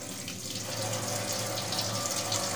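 Dirty cloth used to clean a fan being washed under running water at a sink, a steady close splashing wash with no talk.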